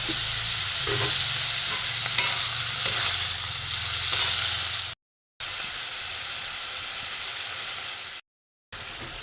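Soybean curry with potatoes and mixed spices sizzles in a pan while a spoon scrapes and stirs it up close; the frying is steady, with two brief silent gaps and no speech.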